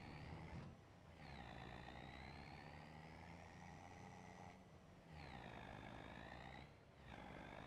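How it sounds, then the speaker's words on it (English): A truck in the Farming Simulator 25 video game drives with a steady engine drone while a reversing alarm sounds, its tone sliding and holding in long stretches broken by brief gaps, fairly quiet, without talk. "Come on, truck."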